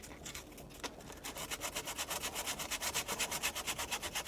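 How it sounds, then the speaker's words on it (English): Steady rhythmic back-and-forth rasp of 220-grit sandpaper on a small diorama piece, close and fairly quiet, starting after a brief pause and settling into an even stroking pace. "And just sand it down."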